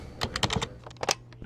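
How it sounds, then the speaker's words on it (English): Someone types on a computer keyboard in quick, uneven bursts of close, crisp key clicks, with a short pause partway through. "Typing on a keyboard,"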